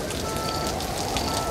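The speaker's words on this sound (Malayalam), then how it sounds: "ഒരു ദിവസം കനത്ത മഴ പെയ്തു. അതിശക്തമായ കാറ്റടിച്ചു." Heavy rain driven by strong wind pours steadily and loudly, a dense continuous wash of drops with no break or voices.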